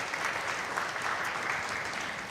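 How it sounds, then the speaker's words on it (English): Presenters at a February 2025 pitch contest get a round of applause from the audience. The dense, even crowd clapping is fairly soft and distant and fills the whole moment. "Give yourselves a round of applause for that."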